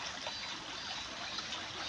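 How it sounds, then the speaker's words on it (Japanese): Stream water flowing in Karuizawa makes a steady, dense rushing trickle, close and continuous, with no voices over it. "水の流れってやつやな。"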